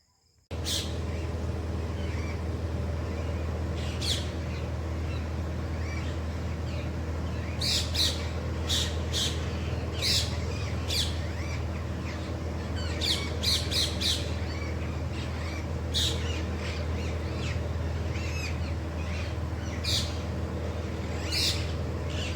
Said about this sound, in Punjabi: ਬਿਲਕੁਲ ਸ਼ਾਂਤ ਮਾਹੌਲ ਪਿੰਡਾਂ ਦਾ ਸਵੇਰ ਦਾ ਸਿਰਫ ਪੰਛੀ ਬੋਲਦੇ ਸੁਣ ਰਹੇ ਆ